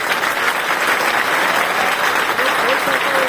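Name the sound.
audience applause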